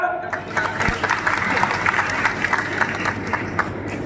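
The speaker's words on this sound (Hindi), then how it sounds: "अगर सही है तो ताली बजाओ" Crowd clapping at a political rally welcoming Jyotiraditya Scindia in Morena, scattered and uneven claps rising and falling over a busy background while voices carry on beneath.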